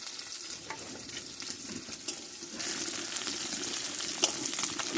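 Pieces of bata fish frying in hot oil in a pan, for a home-style mustard-paste bata fish recipe, give a steady close sizzle throughout, with faint clinks, and no talk.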